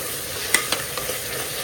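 Vegetables sauté in a hot pan, a steady low sizzle broken by a few sharp scraping stirs, close and alone with no talking.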